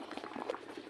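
Mung bean soup boils in a pot, a brief, faint bubbling and simmering heard alone.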